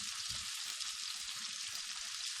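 Garlic and eggplant sizzling in a hot pan, a steady, bright hiss of frying with soft low bumps as the pieces are stirred, close and fairly quiet with no talking.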